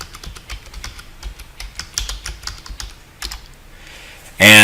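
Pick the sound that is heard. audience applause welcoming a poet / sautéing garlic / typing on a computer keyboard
typing on a computer keyboard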